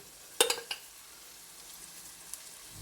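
Two spoons of ground ginger garlic paste fry with onions in a pan for paneer butter masala. A soft, steady sizzle is heard close by, with a few brief clatters of a utensil near the start and no speech.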